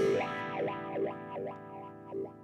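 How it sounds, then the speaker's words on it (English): Distorted electric guitar with a wah pedal, sustained notes swept in five rhythmic vowel-like 'wah' sweeps, loud and upfront with no talking. "that effect that you hear in the guitar is called a wah"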